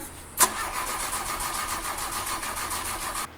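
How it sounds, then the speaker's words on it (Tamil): A car engine cranks with a rapid whirring starter for about three seconds and fails to catch, cutting off abruptly after a short click at the start. "இதுதானே காரு ஸ்டார்ட் ஆகலடா காரு என்னாச்சு"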